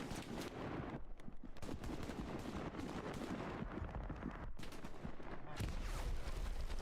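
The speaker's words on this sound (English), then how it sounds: "I think they might be shooting" Gunfire in a Stalingrad battle game: dense, continuous rattling volleys and booms at steady loudness, with brief gaps, heavier thumps near the end.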